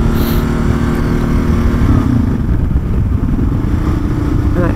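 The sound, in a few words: motorcycle engine as rider releases throttle and upshifts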